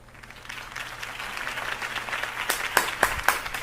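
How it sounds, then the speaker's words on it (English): Scattered crowd applause in a Batman video game builds gradually from faint, and a few sharper, louder claps stand out near the end. "could have heard that applause"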